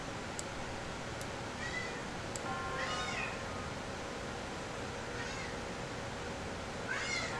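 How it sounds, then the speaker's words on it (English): A house cat meows several times, fairly faint and set back in the room. The short calls are spread out over a low steady background hiss. "Stop meowing."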